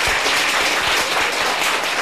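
A studio audience claps steadily for about two seconds, a dense, moderately loud patter of applause with no voices.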